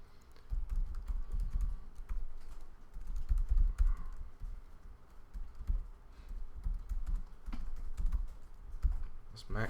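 Fingers type on a Mac computer keyboard in quick, irregular clicks and clatters, soft and close, with occasional louder key taps and low room noise underneath.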